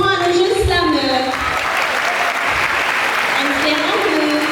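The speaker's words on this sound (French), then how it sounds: "j'aimerais que vous fassiez un tonnerre d'applaudissements à nos jeunes slameurs." Applause rises for young slam poets at an excellence ceremony in a national theatre hall, broad clapping spread across the room while a voice speaks over it at moments.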